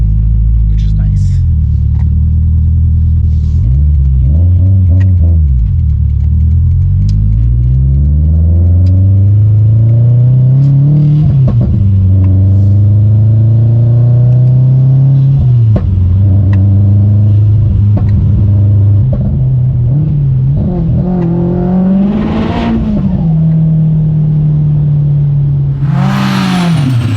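A car engine idles and revs, its deep droning pitch climbing and falling in repeated swells, steady and close throughout the clip.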